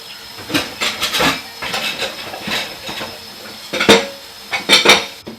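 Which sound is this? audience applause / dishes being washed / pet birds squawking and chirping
dishes being washed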